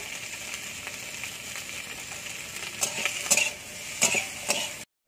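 Okra frying in a pan, a steady close sizzle with a few louder stirring scrapes and clatters near the end before it cuts off.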